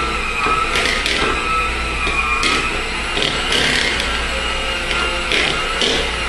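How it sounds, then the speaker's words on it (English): An electric mixer blends cake batter with milk and dry mixture in a bowl, a continuous whirring hum with rattling, scraping beater noises close by and no talking. "We'll go ahead and blend this again"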